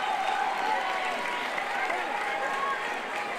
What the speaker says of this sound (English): Huge cheer from the crowd.